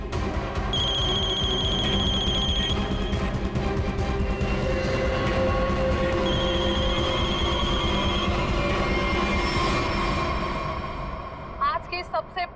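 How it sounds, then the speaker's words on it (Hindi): A telephone rings repeatedly in a TV crime drama scene, its electronic bell tones sounding in bursts over dense background music and noise, with voices mixed in the busy soundtrack. "फोन उठाओ"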